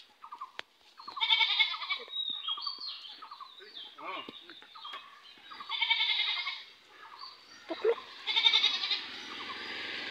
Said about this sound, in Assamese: ছাগলী পোৱালি ইয়াত ডাঙৰ হ'ল দেই